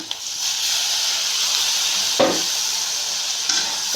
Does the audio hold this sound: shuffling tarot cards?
no